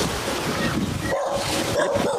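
Dog barking outdoors, a few short yips and barks close by over a steady background din, with some talk around it.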